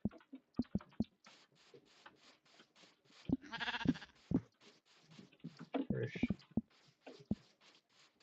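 Sheep bleats in a video game sound in short wavering calls amid rapid clicks and thuds, while a player talks quietly over them.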